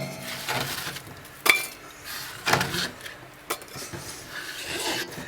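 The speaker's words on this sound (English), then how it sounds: "And put them in a saucepan." Sliced apple pieces tumbling into a metal saucepan in a home kitchen, a few close clattering knocks and scrapes with soft rubbing in between.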